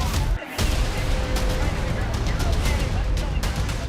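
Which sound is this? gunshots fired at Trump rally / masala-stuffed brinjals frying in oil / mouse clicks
gunshots fired at Trump rally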